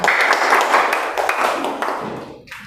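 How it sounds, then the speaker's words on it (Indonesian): A class of students applauds group 3 in a classroom, a burst of fast, bright clapping that holds for about two seconds and then tapers away. "Kita beri aplaus untuk kelompok 3."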